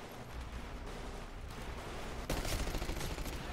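Rapid gunfire rattles in the video game Titanfall as the player is shot, a dense burst of sharp shots with a louder volley partway through and no talk.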